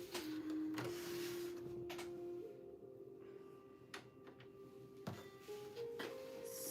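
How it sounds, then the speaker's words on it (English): A sewing machine stitching a fabric plant pot sleeve, a quiet whirring hum in short bursts with rising and falling motor pitch and a few soft ticks between runs, close and alone. "I'm gonna start sewing."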